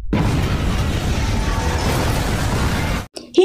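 A loud, sustained roaring blast from a gas leak explosion in an Indian film rumbles for about three seconds, then cuts off abruptly, followed by brief rustling noise.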